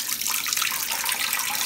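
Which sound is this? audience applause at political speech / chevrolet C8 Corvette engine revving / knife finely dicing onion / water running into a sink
water running into a sink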